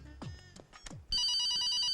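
An electronic telephone ringtone in a comedy scene starts abruptly after a few brief swooshing sounds, then trills loudly and continuously in a fast, repeating warble.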